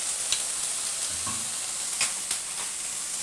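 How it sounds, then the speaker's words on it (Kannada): Chana dal, urad dal, pepper and coriander seeds roast in a little oil in a pan, giving a quiet continuous sizzle broken by a few close scraping stirs. "ಬಾಣಲೆಗೆ ಒಂದು ಅರ್ಧ ಸ್ಪೂನ್ ಎಣ್ಣೆ ಹಾಕ್ಬಿಟ್ಟು ಇದನ್ನು ಸ್ವಲ್ಪ ಬ್ರೌನಾಗಿ ಹುರ್ಕೊಳ್ಳೋಣ."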